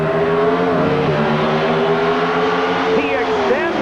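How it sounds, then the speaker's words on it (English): Drag racing cars with 500 cubic inch engines roar at a 1987 NHRA Spring Nationals race in Columbus, Ohio, a loud sustained engine drone with shifting pitch and a rising rev near the end, under faint crowd and commentary sounds. "The vehicles are limited to 500 cubic inch engines, and Glidden gets the advantage at the start."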